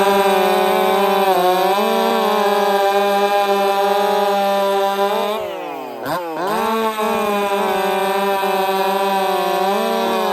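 A chainsaw fitted with a new chain runs at high revs through wood, a loud, steady, harmonic-rich whine held throughout, briefly bogging down and dipping in pitch near the middle before climbing back to full speed.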